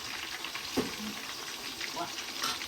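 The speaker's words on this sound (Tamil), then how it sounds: "சிக்கனை எண்ணெயில் போட்டாச்சு மக்களே" Chicken pieces frying in hot oil, a faint steady sizzle with a brief stir or clatter, heard alone.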